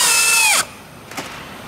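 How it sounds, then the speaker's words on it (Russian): Power drill driving a self-tapping screw into a knot in wood: a loud, high whirring spin that winds down abruptly after half a second, followed by a faint brief click. "Смотри, сучок даже закручивается."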